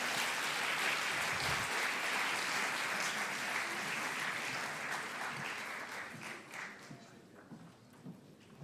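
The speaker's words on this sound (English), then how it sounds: "A big round of applause to our fellow speakers." An audience at a conference opening ceremony claps loudly for the speakers, dense sustained applause that gradually thins into scattered claps toward the end.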